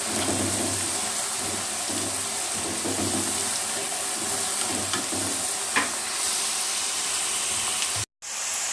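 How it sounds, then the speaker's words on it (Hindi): French fries frying in hot oil over low heat, giving a steady, close crackling sizzle with faint stirring and a brief break near the end. "इसे भी मैं 5, 6 या 7 मिनट के लिए फ्राई कर लूँगा"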